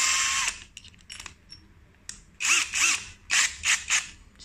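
Keyless chuck of a brushless cordless drill twisted by hand, giving a string of short ratcheting clicks and whirring bursts in uneven clusters, close and fairly loud, with quiet pauses between turns and no talking.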